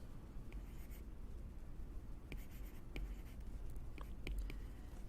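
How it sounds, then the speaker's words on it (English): Pencil or pen writing a sentence by hand on paper, soft scratchy strokes in short bursts over a steady low room hum, close and quiet with no talking. "I could write the sentence"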